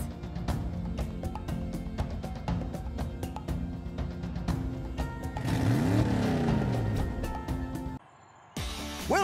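Cartoonish kart engines hum and whine in Team Sonic Racing at Wisp Circuit on PS4, with rhythmic clicks and game effects, a swooping rising tone, then a brief drop into silence before the sounds resume.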